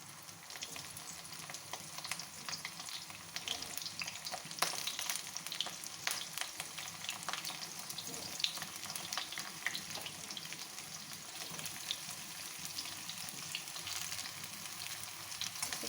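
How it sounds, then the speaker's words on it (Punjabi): Cauliflower frying in hot oil left over from frying potatoes for a dhaba-style aloo gobi makes a continuous bubbling sizzle with occasional stirring clicks, soft and close, steady throughout with no voices. "ਇਸੇ ਤੇਲ ਵਿੱਚ ਹੁਣ ਅਸੀਂ ਗੋਭੀ ਵੀ ਫਰਾਈ ਕਰ ਲਾਂਗੇ"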